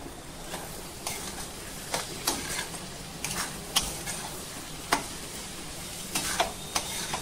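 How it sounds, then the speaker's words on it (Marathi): Chili powder stirred by spoon into onions frying in a pan, for a poppy seed curry: scattered scraping clicks of the spoon on the pan at an irregular pace over a faint sizzle, fairly quiet and close, no talk. "आणि मस्त कांद्यांमध्ये आपण तिखट पावडर मोरून द्यायचं आहे व्यवस्थित"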